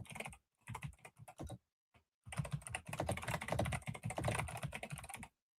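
Keys clatter on a mechanical computer keyboard in close, quick bursts, with short pauses between runs and then a longer stretch of steady, rapid typing.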